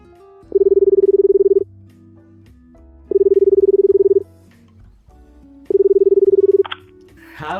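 Telephone being dialed: three long, steady keypad tones, each about a second, spaced evenly with quiet gaps, loud and close, with a brief clatter at the end.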